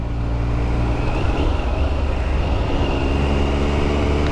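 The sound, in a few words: Triumph Sprint RS 955i six-speed motorcycle riding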